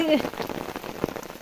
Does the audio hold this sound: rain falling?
yes